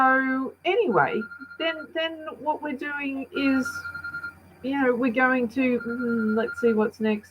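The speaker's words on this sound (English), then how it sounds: "of course that's my phone ringing" A mobile phone rings with a steady electronic tone that stays under a woman's continuous close-up talking, never rising above the voice.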